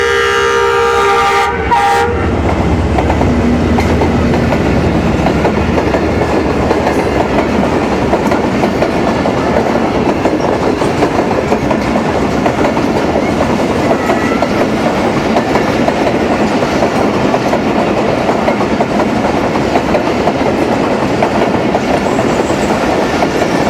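Train arriving at a railway station in Samanabad, Faisalabad, a loud steady rumble with rhythmic clickety-clack of wheels after a brief horn blast at the start, sustained and close throughout.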